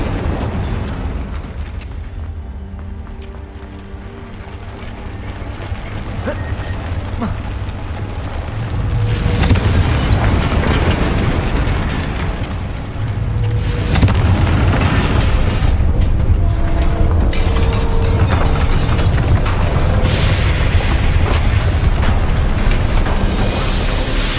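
Confringo blasting spell explosions in the Hogwarts Legacy video game: rumbling booms and crackling bursts that swell into a dense, sustained roar of magical fire and debris, loud and continuous, with no voices.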